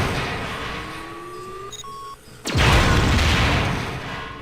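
A large explosion erupts in the confined spaces of the video game System Shock 2, a sudden loud blast that rolls into a sustained roaring rumble after a few tonal beeps and hums.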